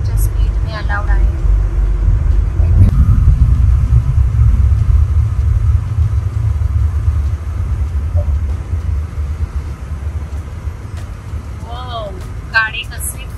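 A car drives fast across the Atal Setu sea bridge in Mumbai, its interior filled with a steady low road rumble and tyre noise, with brief chirping sounds and people talking over it.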